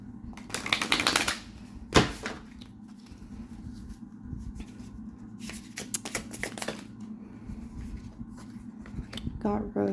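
Oracle deck cards handled and shuffled at close range, with a few bursts of riffling and rustling, a sharp tap, then softer fiddling under a voice as she talks.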